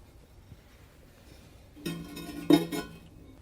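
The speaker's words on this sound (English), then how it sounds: "The next step is to set the cast iron grid" A cast iron cooking grid set down onto the ceramic fire ring of a large Big Green Egg grill, giving a short metallic clank and rattle followed by a second sharper clink, close and alone in a quiet room.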